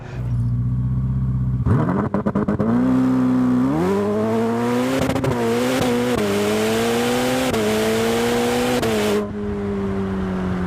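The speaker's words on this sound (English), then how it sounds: "I screwed up and hit the red line and spun the tires really hard" A Ferrari 458 engine revs hard up to the red line with tires spinning, a loud, close, sustained rising roar that climbs in steps across several seconds before cutting off, with no talk.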